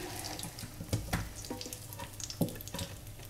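A leftover sourdough pancake with herbs frying in a pan, a faint crackling sizzle with scattered pops and utensil clicks, quiet and close, no talking.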